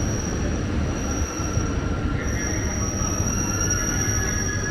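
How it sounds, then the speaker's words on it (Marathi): Mumbai Metro Line 3 underground train arriving at a station, with a steady low rumble, a thin high whine and faint wheel squeal, sustained at an even level throughout, with no talk. "तर ही बघा, आपली ही ट्रेन आता आलेली आहे"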